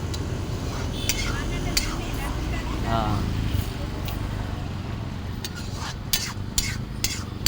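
Manchurian is stirred in a pan amid a busy kitchen backdrop, with a steady scraping and sizzling wash and light metallic clinks of utensils toward the end.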